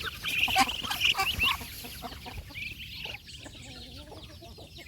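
Farmyard chickens clucking and calling near the listener, loud bursts at first that taper into softer scattered clucks, with a little background noise.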